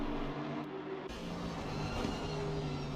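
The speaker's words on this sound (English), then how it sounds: "You get to hear the Aston exhaust and watch as that absolute behemoth of a GT3 car lumbers around" Engine and exhaust note of an Aston Martin GT3 race car in a sim racing game at Spa-Francorchamps, a steady droning tone that shifts pitch as the car accelerates, loud and continuous with no talk.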